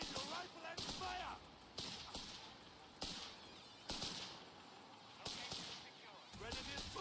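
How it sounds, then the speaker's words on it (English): Grenadier rifle fire in a strategy video game, sharp repeated shots and short volleys about once a second, with battle noise and faint voices in the mix. "Aim your rifle and fire!"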